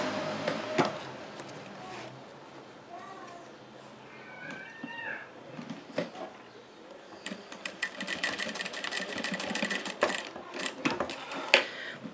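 A sewing machine runs a seam on a small fabric bag, fixing the strap adjuster in place. Rapid mechanical stitching bursts come up close in the second half, with fabric handling and a few meow-like cries earlier.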